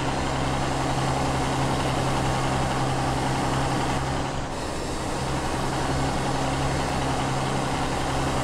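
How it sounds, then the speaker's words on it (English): Tatra 813 Kolos heavy truck engine in the SnowRunner video game, a loud, steady diesel idle with a deep rumbling drone that holds evenly throughout, dipping only briefly midway. "Apparently the sound of the truck is the actual genuine sound of the original truck."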